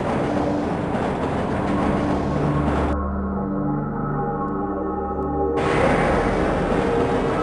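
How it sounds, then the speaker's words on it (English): A tram train rides through the Black Mesa facility in the video game Half-Life, a steady rumbling drone with humming tonal layers that thin out briefly in the middle before the full roar returns. "This train is inbound from Level 3 dormitories to Sector C test labs and control facilities."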